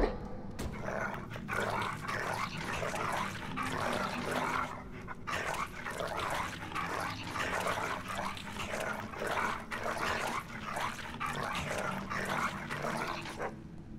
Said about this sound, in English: Tell me, that dog next door.